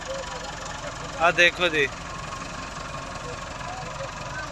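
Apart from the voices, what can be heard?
385 tractor engine idling while unloading chopper machine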